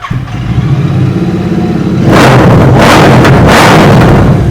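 Second-hand customized motorcycle fitted with a Mototalk exhaust, idling with a low, lumpy burble before opening into loud, rasping revs that rise and fall in several close, powerful blasts.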